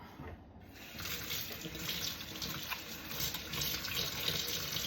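Water from a kitchen sink tap runs steadily as someone washes their hands, a close, continuous splashing stream throughout.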